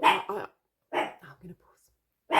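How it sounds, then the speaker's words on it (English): A dog barks a few times indoors as someone comes through the door, the short barks mixed in with a person talking nearby. "excuse the dog"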